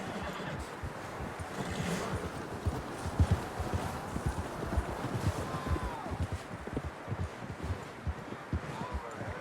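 Horses trotting in the video game Red Dead Redemption 2, a dense, continuous clip-clop of several sets of hooves at a steady pace, close and prominent under faint ambient noise.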